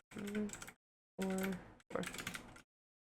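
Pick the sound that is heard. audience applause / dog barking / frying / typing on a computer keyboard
typing on a computer keyboard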